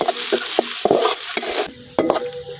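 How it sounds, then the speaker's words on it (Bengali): Ginger, garlic and onion fry in a pan with a close, bright sizzle, broken by a regular series of spatula scrapes and stirring knocks, and the frying briefly drops in level partway through. "আমার আদা রসুন পেঁয়াজটা কিন্তু হালকা বাজা হয়ে গেছে"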